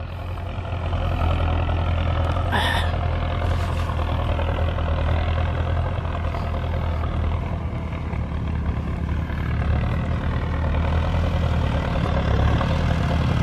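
A Belarus 1025 turbo tractor engine runs steadily nearby, a loud continuous low rumble that holds constant throughout, with a brief clank early on.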